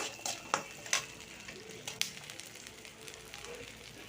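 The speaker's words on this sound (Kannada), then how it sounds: "ಈರುಳ್ಳಿ ಬೆಳ್ಳುಳ್ಳಿ ಕರಿಬೇವು ಎಲ್ಲ ಹಾಕಿ ಸ್ವಲ್ಪ ಎಣ್ಣೆ ಫ್ರೈ ಮಾಡ್ಕೊಳ್ಳೋಣ" Onion, garlic and curry leaves frying in a little oil for a village-style soppina bassaru, heard as a faint, quiet sizzle broken by a few sharp clicks of a spoon or ladle against the pan.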